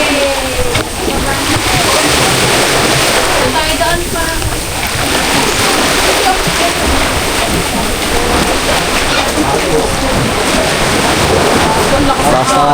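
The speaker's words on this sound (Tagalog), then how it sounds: "Taas na alon dito guys." Big ocean waves crash and slosh loudly and without a break near the recorder, with voices talking over the surf.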